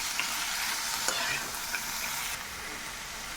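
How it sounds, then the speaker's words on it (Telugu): Grated carrot being stirred through mango pulihora rice in a pan, a steady sizzle under soft scraping of the spoon with a few light clicks. "ఒకసారి దీన్ని అంతా మిక్స్ చేసుకోవాలి"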